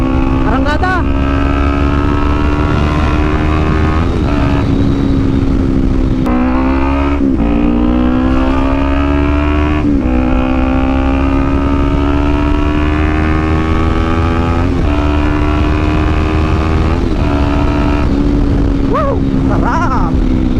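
A Ninja 400 motorcycle revs and pulls hard on a ride, its engine a loud, steady drone whose pitch climbs through gears, dips at shifts and climbs again, with wind rush and an excited rider's shouts mixed in.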